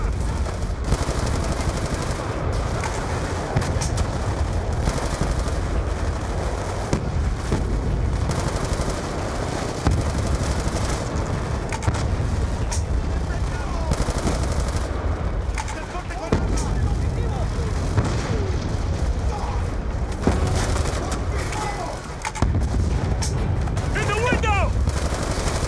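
Sustained automatic AK rifle fire in the Black Ops 2 campaign, dense and continuous for around twenty-five seconds, with a player talking over the steady clatter and game sounds.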